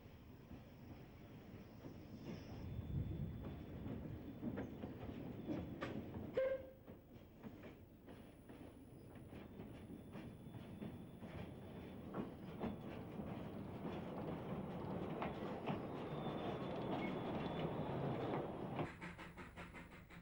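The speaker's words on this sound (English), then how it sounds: "we see locomotive number 8, Fenella, which has charge of a service for Peel" Isle of Man narrow gauge steam locomotive number 8 hauls a service train for Peel near Crosby, heard as a faint, distant rumble with rail clatter that builds steadily over about twenty seconds.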